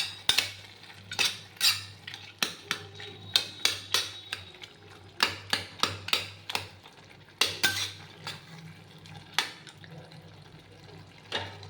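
Fried lentil dumplings are stirred into a curry in a pan, with a spoon clinking and scraping against the metal in quick, irregular bursts over a quiet background.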